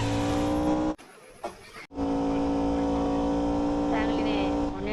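A car in the Grand Theft Auto video game skids with a loud, steady engine roar that cuts out briefly once before resuming.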